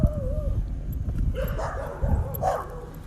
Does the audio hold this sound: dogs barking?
yes